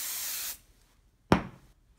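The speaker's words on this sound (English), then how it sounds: "And then you just take your spray" Two light hissing bursts of spray adhesive misted onto the seam allowance of velvet fabric: a steady half-second spray, a pause, then a sharper, shorter puff, close and fairly quiet.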